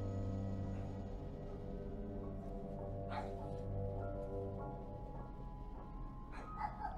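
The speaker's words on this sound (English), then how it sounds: "I don't like how they're getting barking." Dogs barking in the horror video game The Devil in Me, a run of yips and barks over a steady droning game soundtrack, louder bursts near the middle and end.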